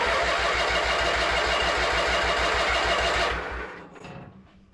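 A vintage Craftsman lawn tractor's small engine turns over with a fast, steady rhythmic chugging, loud and close, before it dies away and leaves only faint rattling.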